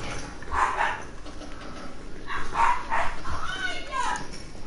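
Dogs bark and yip repeatedly in short bursts during play of the Resident Evil survival horror video game, mixed with game sounds and people talking over them.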